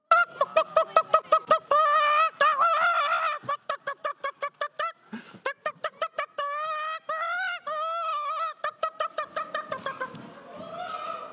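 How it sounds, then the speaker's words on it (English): A chicken in a church setting clucks and squawks in rapid repeated bursts, loud and close, with frantic honking calls continuing throughout and no voices. "Hang on, Dewey, the chicken's gone crazy."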